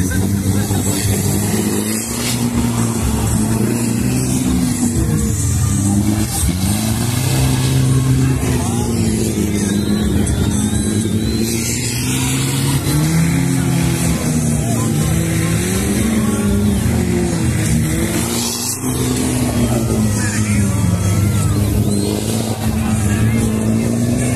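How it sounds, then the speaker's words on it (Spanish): A diesel 4x4 engine labours and revs steadily on a rocky off-road trail during an off-road challenge heat, a loud, continuous, wavering drone throughout, with voices faintly underneath at times. "Aquí en esta pista el motor diésel es el que va a hacer todo."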